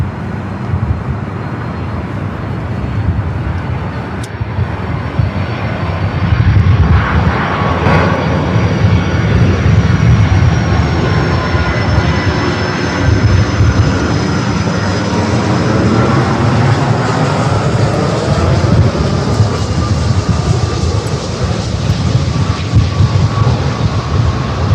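A Southwest airliner landing on runway 24 right, its jet engines roaring loud and steady throughout, with a broad rumbling whine that swells slightly partway through.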